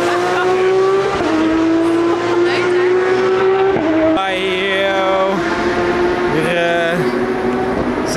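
Loud cars at a night-time car meet roar and rev as they drive past, with engine tones rising and shifting continuously and a squeal of tires, close and dominant over faint background voices.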